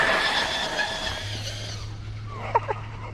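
A Traxxas Rustler VXL 4x4 RC truck on aftermarket tires rips along, its high electric motor whine rising and fading away, followed by a brief low hum and a couple of sharp scuffs near the end.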